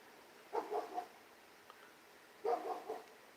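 A dog gives two short bursts of barking, each a quick cluster of yaps heard at a distance, faint against a quiet background.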